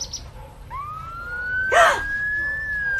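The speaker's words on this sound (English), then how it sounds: "That was really a loud siren of a fire truck." A fire truck siren wails loudly nearby, a single rising tone that sweeps up and holds steady, with a brief noisy burst partway through.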